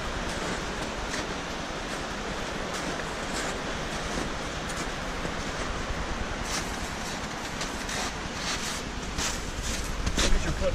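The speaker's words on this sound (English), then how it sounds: "Is that a waterfall?" Waterfall rushing in the Linville wilderness, a loud steady broadband roar filling the whole clip without pause, close and continuous, slightly swelling near the end.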